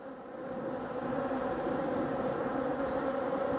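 Honeybees from a hive badly infested with varroa mites, many showing deformed wings, drone in a steady close buzz that swells slightly in the first moment and then holds constant, with no talking.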